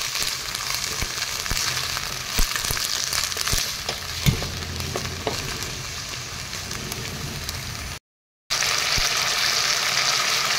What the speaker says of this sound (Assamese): মটৰখিনি অলপ ভাজি লওঁ